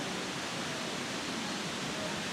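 At Laxey on the Isle of Man, the current pours past the paddles of the Lady Isabella water wheel in an even, close, continuous hiss-like roar with no pauses.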